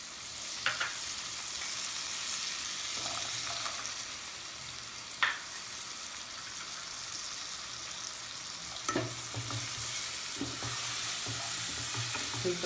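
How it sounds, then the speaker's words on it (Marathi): Field beans and dried Bombay duck stirred in a pan, a steady close frying sizzle with occasional scraping clinks of a spoon against the pan at irregular intervals, no talk. "हे सगळं ढवळून घ्यायचं आहे।"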